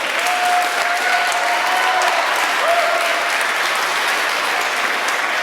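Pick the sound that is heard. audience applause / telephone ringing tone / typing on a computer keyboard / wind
audience applause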